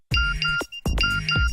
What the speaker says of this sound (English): What a lame text message alert.